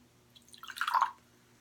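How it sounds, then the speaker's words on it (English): Cherry Mountain Dew Game Fuel poured into a glass, a short, soft splashing and gurgling burst that swells briefly and then stops, quiet and close, with no talk. "So I'll pour it into the glass,"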